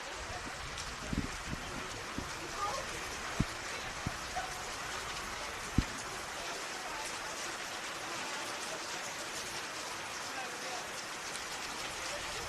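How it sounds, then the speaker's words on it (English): Steady rain falling on an outdoor football pitch during a women's NPL Victoria match, a dense continuous hiss with occasional sharper knocks, while a commentator talks over it. "It might calm down later, though, the rain."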